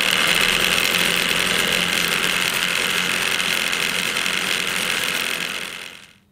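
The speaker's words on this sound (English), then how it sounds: "I'm going to turn up the voltage to the motor, and it'll get very noisy in a second" Eccentric motor shaking a kinetic theory apparatus full of ball bearings, a loud, dense rattling buzz that holds steady for several seconds, then cuts off abruptly at the end.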